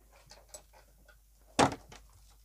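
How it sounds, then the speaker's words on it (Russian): A door in a goat barn shuts with one sharp thud, preceded by soft shuffling and faint rustles in a quiet space. "Сейчас закрою дверь"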